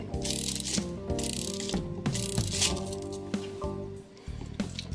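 A clamp is ratcheted tighter while a Seth Thomas kitchen clock is serviced, giving a series of clicking, grinding mechanical strokes in quick bursts with short pauses, close and fairly loud, with no talk.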